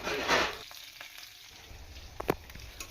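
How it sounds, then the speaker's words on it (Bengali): Potato pieces fry in a pan as salt goes in, a steady sizzle broken by a loud scrape near the start and a few sharp spatula clacks later on. "আলুগুলো সব ভাজা হয়ে গেল,"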